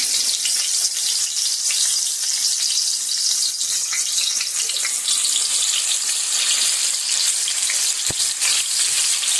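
Finely chopped onion fries in oil for chicken liver masala, a loud, dense, steady hiss of sizzling that fills the whole stretch, close up and without talk.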